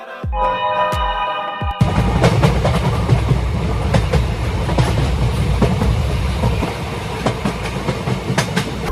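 A train at a railway station, heard after a short tonal intro. Continuous loud rumble and clickety-clack of rolling wagons runs throughout, with sharp metallic clicks and no voices.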